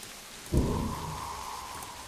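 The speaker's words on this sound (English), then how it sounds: "Man, that rain sounds so good." Rain in the hidden-object game Shiver 2: Poltergeist, starting abruptly with a soft thump, then falling as a steady, moderately quiet patter with a low rumbling undertone and a faint sustained tone above.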